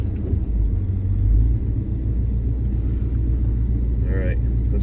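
A car engine fitted with a Holley Sniper EFI idles in gear, a steady low rumble close by, with a person talking over it.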